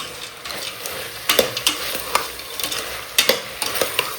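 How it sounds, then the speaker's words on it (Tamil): Vegetables and soy chunks sauté in hot oil with a continuous soft sizzle, broken by sharp clinks and scrapes of a spoon stirring against the pan, close up. "இப்போ இது எல்லாமே வந்து பார்த்திங்கன்னா நல்லா எண்ணெயில் வதங்கணும்"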